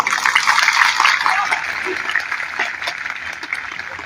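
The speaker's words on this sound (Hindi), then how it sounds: "ताली जब भी बजाइएगा तो जम कर, टुटू ताली न बजाया करिए।" Applause rises from an audience at a rally of government employees campaigning for restoration of the old pension scheme: dense, sustained hand-clapping that fills the room, strongest at the start and easing slightly toward the end, with no speech over it.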